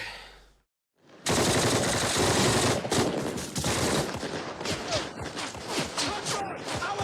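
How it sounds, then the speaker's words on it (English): Heavy machine gun fire from the war series Band of Brothers, Episode 8, plays as dense rapid bursts with scattered single shots and battle noise, loud and continuous for several seconds. "bullets are just like flying through him"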